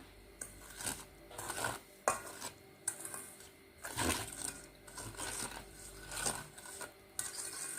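Sugar is stirred into coconut milk in a bowl for achu murukku batter made with rice flour: quiet, rhythmic scraping and clinking strokes of a spoon against the bowl, repeated steadily with no voices.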